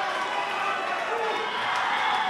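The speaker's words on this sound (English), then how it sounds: "look at the crowd go wild" A boxing event crowd roars in a steady, loud wash of cheering and shouting that fills the hall without pause, with an announcer's voice faintly mixed in.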